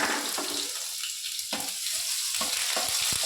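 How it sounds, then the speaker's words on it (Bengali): Garlic, dried red chilli and black cumin sizzle in hot oil as a tempering, a steady close frying hiss with a few brief stirring clatters and no talk. "ফোড়নে শুকনো লঙ্কা, কালো জিরে, আর এখানে আমি নিয়েছি রসুন,"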